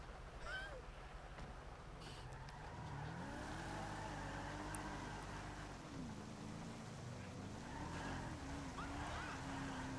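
A car driving in GTA Online, a faint droning engine whose pitch rises and falls as it revs and shifts, steady and continuous under a quiet wash of background noise.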